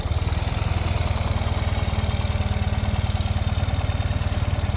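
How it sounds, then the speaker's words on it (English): A 2019 Ural Gear Up motorcycle engine runs at a steady idle right after starting, with an even, rapid, low pulsing beat heard up close and nothing else over it. "this bike fires right up and immediately finds its happy idle"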